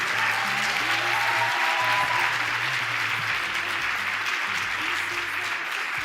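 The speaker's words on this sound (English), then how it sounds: "Let's give her another big round of applause." Loud, sustained applause from an awards ceremony audience fills the hall, a dense steady wash of clapping that carries on without a break for several seconds.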